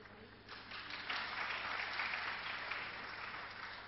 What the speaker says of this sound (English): We can again do with a round of applause.